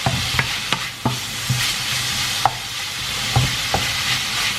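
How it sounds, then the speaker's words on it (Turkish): Meat and onions sautéing in a hot pan, with a steady sizzle broken by several sharp clacks and scrapes of a utensil stirring at irregular intervals; no one speaks. "Şimdi bunları arkadaşlar güzelce soğanla kavuruyorsunuz."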